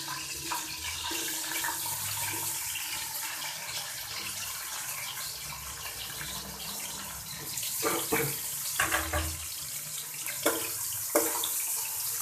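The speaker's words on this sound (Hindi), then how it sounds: "यहाँ पे हमारा घी अच्छी तरह से गर्म हो गया था तो इसमें मैंने प्याज ऐड कर लिए।" Onions fry in hot ghee for aloo baingan sabji, giving a steady, fairly quiet hiss and sizzle with occasional louder crackles and pops toward the end, continuous and close with no talk.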